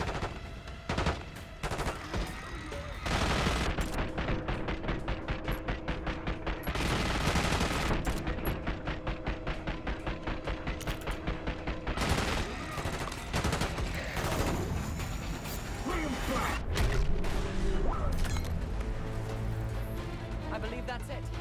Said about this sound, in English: We've got a hostile with a minigun.